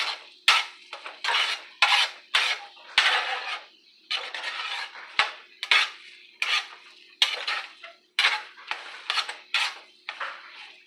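Egg being stirred and spread in a pan for egg fried rice, heard as repeated close scraping and clinking of a utensil against the pan in short bursts with brief pauses between strokes.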